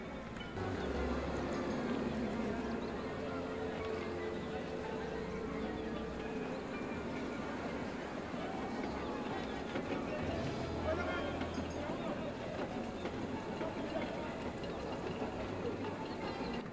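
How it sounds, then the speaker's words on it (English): A roller coaster train in the Planet Coaster 2 video game runs past with a steady, loud rumbling roar that holds evenly throughout, with no clear breaks. "as the train comes around to the airtime hill"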